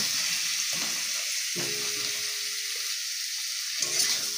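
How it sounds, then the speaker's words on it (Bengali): Fried potato and eggplant pieces sizzle steadily in spice paste in a pan for a fish curry, with a few scraping stirs and clinks, close and alone. "এর মধ্যে আমি আগে থেকে ভেজে রাখা আলু আর বেগুনটাকে দিয়ে আবারও ভালোভাবে কষিয়ে নেব।"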